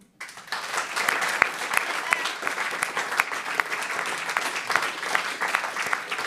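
An audience at a panel discussion on digital democracy breaks into sustained applause, a dense, steady crowd of clapping that starts abruptly and carries on evenly at moderate volume, with faint voices mixed in.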